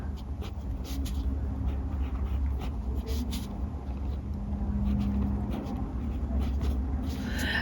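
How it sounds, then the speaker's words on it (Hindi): A blue pen writes on paper under a steady wash of low background rumble, with faint scratchy strokes coming in short bursts close by. "नीली पेन से लिखेंगे, प्रदूषण का अर्थ।"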